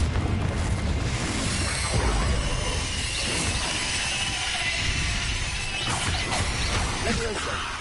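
A Confringo explosive spell blast in a wizard video game: a loud, dense crashing roar with layered smashing and booming impacts that stays sustained and close throughout, swelling again near the end.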